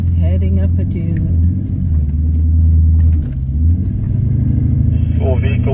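A 4WD vehicle climbs a sand dune in the Simpson Desert, its engine droning loud and steady close by while people talk over it.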